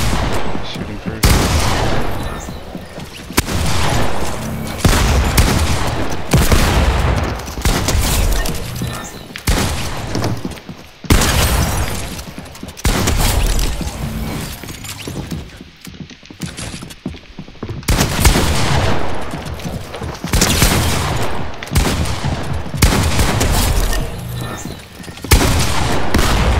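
Loud video game gunfire crackles in repeated bursts and volleys almost without a pause, with an occasional heavier boom mixed in.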